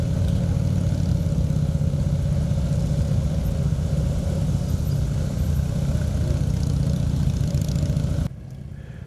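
A police Harley-Davidson Road King creeps slowly through a cone course at a motorcycle competition, its engine rumbling low and steady near the microphone before cutting off abruptly near the end.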